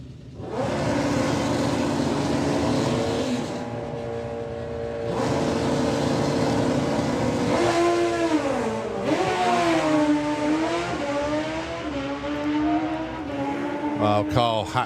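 Drag racing motorcycles from the ET Bike class, first round, launch hard down the strip at a spring nationals meet, a loud sustained engine roar that rises and shifts pitch as they pull away, with a commentator talking over it.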